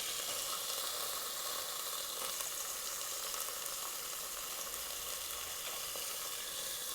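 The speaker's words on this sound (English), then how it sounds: "While these burgers are cooking" Burgers sizzle and fry on a grill in a steady, continuous crackle that holds close and even throughout, with no talking over it.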